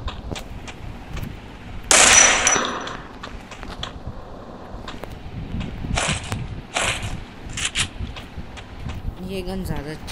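Gunfire from a weapon in the Free Fire battle royale video game, a loud burst near the start followed by scattered shots and clicks, with someone talking over the game sounds.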